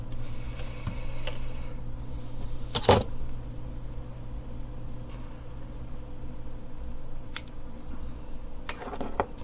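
Scissors snip a wire end during soldering work, with one sharp cut near the start and a few lighter clicks and ticks afterward against a quiet room hum.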